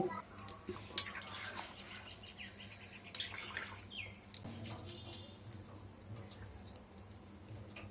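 Three cups of pre-boiled hot water are poured into a pot of cooking chicken, a soft rushing splash that sets in midway, following scattered clinks and drips of kitchen activity.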